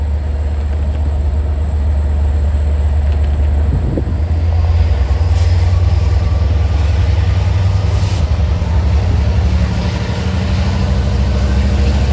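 A CM30AC diesel locomotive rolls past a railroad crossing on the Babylon to Patchogue line, a loud, steady low engine rumble with continuous wheel and rail noise and a faint high whine, sustained throughout.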